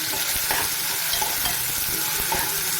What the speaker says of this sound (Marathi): कढीपत्ता लसूण आणि कांदा हे चांगला आपल्याला गोल्डन कलर येईपर्यंत भाजून घ्यायचं